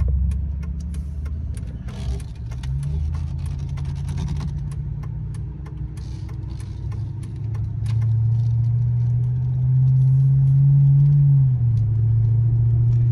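A 2005 Dodge Ram 1500 Daytona 4x4 truck engine runs after a cold start, a steady low rumble that rises in revs partway through, then settles back to idle.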